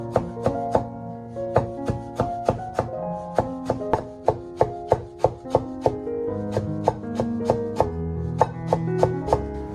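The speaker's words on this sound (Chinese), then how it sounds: "最后再切成黄瓜碎" A knife chops cucumber into small pieces on a board, the blade striking in a fast, steady rhythm of sharp, close knocks with a slight pause partway through.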